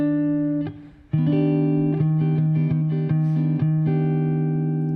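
Jazz guitar sounds a sustained augmented major 7 chord, then a scale runs over it note by note in a steady, clean line, close and alone.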